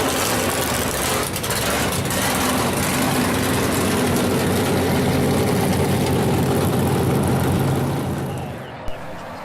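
A race car rolls out of the pit area and down pit road toward the line-up for its heat race, a steady loud engine drone running close and continuous before easing off near the end.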